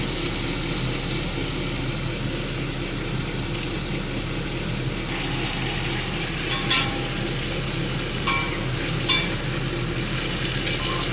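Potatoes and onion stalks fry in a pan with a steady, loud sizzle throughout. A utensil stirs them, adding a few sharp scraping clicks toward the end.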